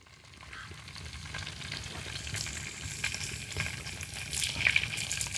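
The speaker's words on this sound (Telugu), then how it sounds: "నూనె, ఆవాలు, మెంతులు, జీలకర్ర వేసుకుందాం." Mustard seeds, fenugreek and cumin sizzling in hot oil for a Nellore fish curry, a continuous close frying hiss that slowly builds in loudness, dotted with small pops and crackles, with no voices.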